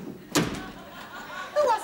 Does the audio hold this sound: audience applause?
no